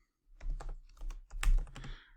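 Close keystrokes on a computer keyboard come in several quick clattering bursts separated by brief pauses, with no voice.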